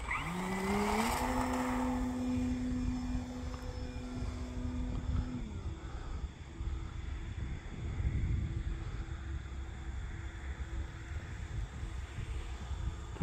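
An RC airplane's electric motor on a 6S 4000 mAh battery holds a steady whine at half throttle, its pitch stepping up and then easing off, with wind buffeting and rumble heard at a distance.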